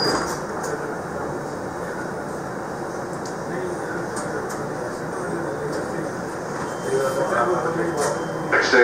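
A MARTA Red Line subway train runs toward Airport Station with a steady low rumble and rolling rattle throughout. Its volume swells slightly near the end, and no one speaks.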